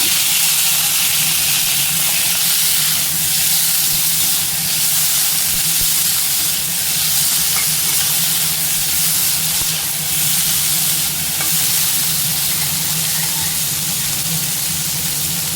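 Onions and tomatoes sauté in a hot pan for a banana stem chutney, giving a steady, close sizzling hiss that runs unbroken throughout.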